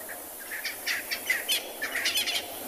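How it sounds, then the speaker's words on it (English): Several birds chirp and call in quick, overlapping bursts against a quiet outdoor background at sunrise on an African safari reserve. "Lots of birds making noise now,"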